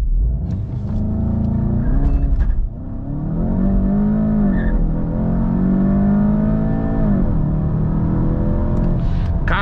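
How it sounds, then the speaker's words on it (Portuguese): A Volkswagen Golf GTI accelerating hard from 0 to 100 km/h with its oil running hot, the engine note loud and close and climbing through the gears, with brief dips at each shift. "Olha o 0 a 100 do GTI, moço!"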